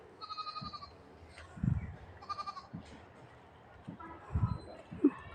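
A pregnant goat bleating close by, several short wavering bleats spaced across the moment, with low thuds and a voice nearby.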